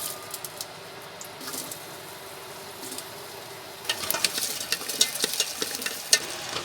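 Chopped onions dropped into hot oil in a pan for an Irish stew, a faint steady sizzle that brightens into louder crackling and spitting partway through, close by with no talking.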